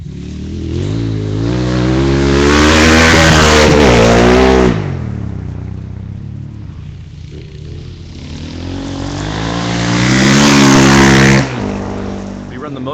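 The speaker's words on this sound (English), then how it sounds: "Hopefully you folks can hear the great sound of the motorcycles in the woods." Rally motorcycles race through woodland on a special stage, engines rising to a loud revving roar as one bike passes close, fading, then a second bike howls past; no talk.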